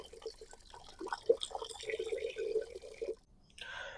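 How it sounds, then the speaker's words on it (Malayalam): Water pours from a hose pipe into a bucket while an organic liquid plant fertilizer slurry is being made, a faint, close trickle and splash that breaks off briefly near the end. "വെള്ളം പൈപ്പിൽ നിന്ന് ഒഴിച്ചു കൊടുക്കുകയെന്നുണ്ടെങ്കിൽ കുത്തനെ ഒഴിച്ചു കൊടുക്കാതെ ശ്രദ്ധിക്കുക"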